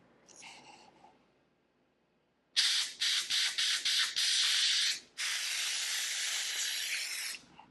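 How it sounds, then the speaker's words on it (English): Compressed air blasting through a hose, heard as loud, close hissing bursts: a quick string of short pulsed puffs, then one long steady rush that cuts off, with a faint breathy sound before it. "Going to blow some air in from the other end, and you might see a little poot of debris come out of there"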